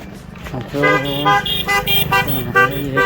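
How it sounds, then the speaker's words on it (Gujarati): A motor vehicle comes up from behind on a road at night, its engine and tonal horn-like toots loud and close, continuous and rising in presence over a few seconds. "ગાડી આવે છે"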